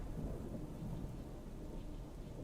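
A thunderstorm in the Frozenheim strategy game: steady low rumbling thunder and rain roar holding at an even, moderately loud level throughout, with no voices.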